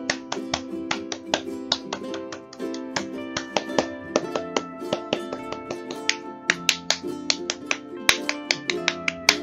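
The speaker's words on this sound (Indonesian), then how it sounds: "3 kali tepuk pramuka" Fast, rhythmic Scout hand claps in a patterned sequence, crisp and close, over a steady background tone, with no talking.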